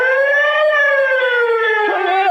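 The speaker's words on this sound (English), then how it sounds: "Say, Eb, how does the siren sound" A brand new fire engine siren in a radio drama effect, one loud, sustained wailing tone that holds steady and then dips and bends near the end, heard alone without talk.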